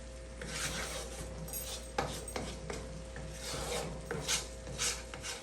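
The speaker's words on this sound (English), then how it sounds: "Make sure from time to time you scrape the sides down." A spoon scrapes around the sides of a pot of cooking milk-and-sugar fudge, giving a steady raspy rubbing with a few sharper scrapes and knocks, close and fairly quiet over a low background hum.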